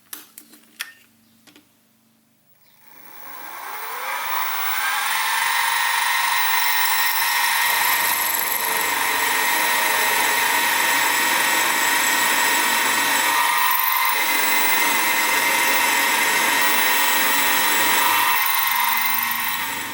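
A milling machine drills a 3mm hole in the flywheel of a Stuart Half Beam steam engine; after a few light clicks the spindle spins up with a rising whine and settles into a steady high drone for the rest.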